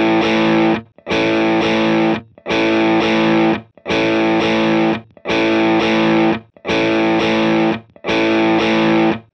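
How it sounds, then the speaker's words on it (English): Heavily distorted electric guitar power chords are struck through an amp modeler in seven loud, sustained hits. Each rings for about a second before being choked, with short silences between and no talking. "Let's now go with just this couple power chord hit and go back and forth between these."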